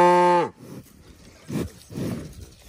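A cow on a cattle farm gives one loud, close moo that cuts off abruptly, followed by quieter low grunts and shuffling in the pen.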